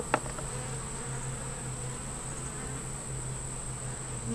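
Bees drone steadily inside a hive box holding a red queen, a few bees, little stores and many beetles, a close, even buzzing hum that carries on without a break.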